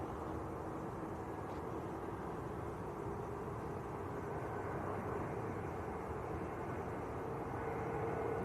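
An EgyptAir airliner taxis at Manchester Airport, heard as a steady, distant engine drone with a broad rumble that holds evenly throughout, with no voices.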